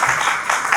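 Audience applause from a seated crowd at a Hindi-language motivational health and wealth seminar, a steady dense patter of many hands sustained evenly through the moment without a break.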